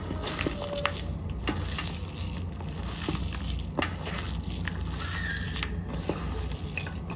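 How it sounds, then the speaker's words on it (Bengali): Lightly parboiled potato and carrot pieces being mixed by hand into pakora batter, a continuous wet squelching and crunching close up, with a few sharp clicks and no voices. "আস্তে আস্তে মেখে নেব"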